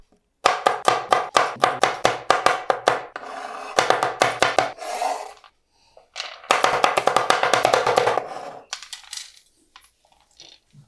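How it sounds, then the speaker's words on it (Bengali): Walnuts and raisins being chopped finely with a knife on a board, rapid runs of sharp, loud chops in bursts, with short pauses between them and no talk. "এখানে কোয়াটার কাপ আছে আখরোট আর এখানে কোয়াটার কাপ আছে কিশমিশ হ্যাঁ এইগুলোকে আমি কেটে নিব কুচি কুচি করে"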